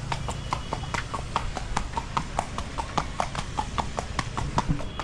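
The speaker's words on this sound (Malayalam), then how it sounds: "നമ്മൾ കുതിരയിൽ ഓട്ടിക്കുവാണ് ഗൈസ്" Horse hooves clip-clop steadily in a regular rhythm during a ride near a lake in Kodaikanal, Tamil Nadu, close and clear over low background rumble.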